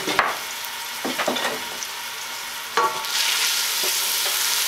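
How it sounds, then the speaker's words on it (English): Finely chopped vegetables sauté in olive oil for a pasta sauce, a steady close sizzle that swells louder near the end, broken by a few scraping stirs. "Make sure the olive oil is covering everything. You're going to want to saute this for 6 to 8 minutes."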